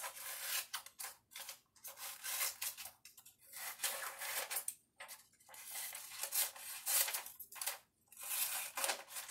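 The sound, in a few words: cutting out paper shapes with scissors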